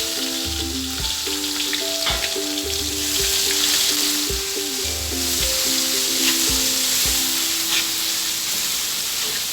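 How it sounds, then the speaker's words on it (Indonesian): Freshly pounded ground spice paste sizzles and crackles steadily in hot oil in a very large size-18 wok while being stirred for Betawi papaya vegetable soup, a loud continuous frying hiss with occasional scraping clinks. "Ini kita tumis sampai harum."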